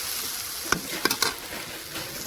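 Saag greens cooking in a pan, a soft continuous sizzle broken by a few sharp scraping stirs, close and fairly quiet, no talking.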